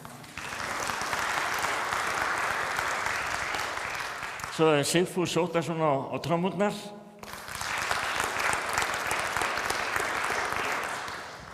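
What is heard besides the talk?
audience applause for the musicians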